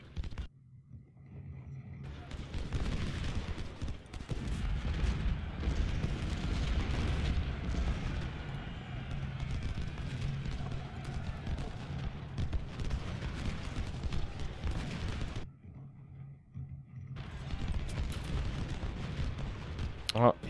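Artillery and musket fire in the Civil War strategy game Ultimate General: Civil War at Antietam rumble as a sustained, loud mass of booms and crackle, broken by a short lull, with someone talking over the battle.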